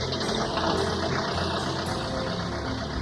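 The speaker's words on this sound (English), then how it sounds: "At that moment, Marcel hears a motor start." A car motor starts and runs with a steady, loud engine rumble throughout, no voices present.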